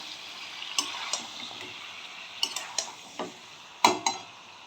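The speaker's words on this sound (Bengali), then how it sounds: "চিকেনটাকে এখন আমি খুব ভালো করে কষে নেব হাই ফ্লেমে রেখে" Marinated chicken sautéed in a pan over high flame, a soft background sizzle broken by scattered sharp spatula clicks and scrapes against the pan, no talking.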